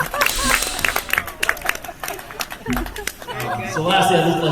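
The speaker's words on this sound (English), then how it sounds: "let's give a round of applause for that" Wedding guests applaud and chatter after a best man's speech, a burst of clapping mixed with murmuring voices and a laugh, fading briefly before another rise of crowd noise and clapping near the end.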